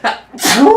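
A single loud, close sneeze with a sharp intake and a bursting expulsion, heard alone in a casual conversation setting.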